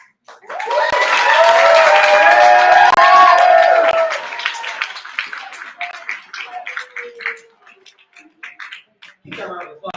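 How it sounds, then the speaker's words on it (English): A poetry slam audience bursts into loud applause and cheering for about three seconds, then the clapping thins into scattered claps and voices. "Keep that round of applause going"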